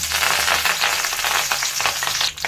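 Continuous loud crackling and hissing of mustard seeds and urad dal sizzling in hot oil, a tempering for roadside-style South Indian chutney, dense and close, with no voices.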